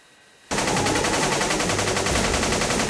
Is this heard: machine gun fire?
yes